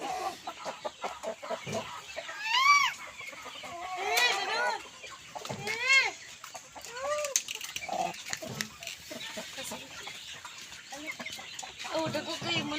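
Giant Indio Gigante heritage chicken clucking and calling close by, several drawn-out rising and falling calls mixed with softer clucks, with people talking quietly in the background.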